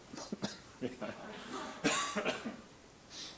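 A person coughs repeatedly in short, harsh bursts, close by, with brief pauses and breaths between the fits.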